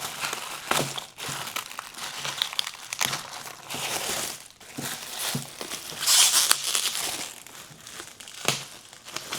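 Plastic and cardboard packaging of a Hot Wheels petrol station diorama crinkles and tears continuously at close range, with rustling bursts and crackles for several seconds.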